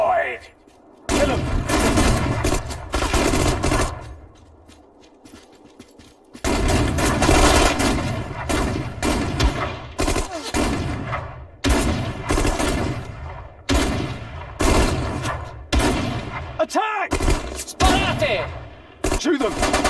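Infantry gunfire in the World War II strategy game Sudden Strike 4, dense volleys and rattling bursts that come in waves separated by quieter gaps, with shouted voices mixed among the shots.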